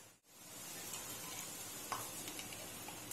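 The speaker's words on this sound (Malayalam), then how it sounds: "പാൻ ചൂടാതിന് ശേഷം നമുക്ക് അതിലേക്ക് നെയ്യ് ഒഴിച്ചു കൊടുക്കാം" Ghee sizzling steadily in a hot pan, a continuous broadband hiss with faint crackles, close and even throughout after a brief quiet moment at the start.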